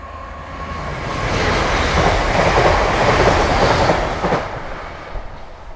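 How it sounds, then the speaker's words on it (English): A model train rolls along its track with a steady rushing rumble and faint clicking, swelling louder in the middle before easing off. "I'm sort of playing with trains today to see if they can come in to Farmore."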